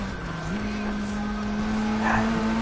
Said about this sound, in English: This thing can drift.